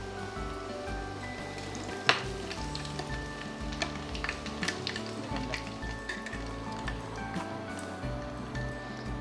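Chicken cutlets frying in hot oil, a continuous crackling sizzle with scattered pops and bubbling, moderately quiet and steady with no talking.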